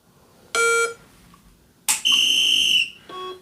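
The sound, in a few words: shot timer beep during dry fire training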